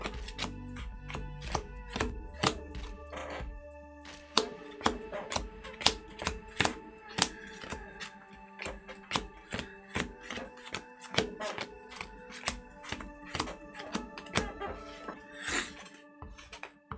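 Trading cards from a Runick control deck being shuffled by hand, giving a fast run of crisp, close snaps and riffles with a low thump near the start and a brief tonal hum underneath.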